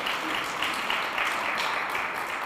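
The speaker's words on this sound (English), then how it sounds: "That's worth clapping for." Audience applause at a mayor's State of the City address in Jackson, a steady wash of many hands clapping in a hall, sustained and even throughout without any speech.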